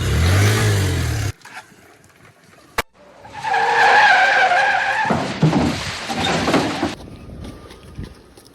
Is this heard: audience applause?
no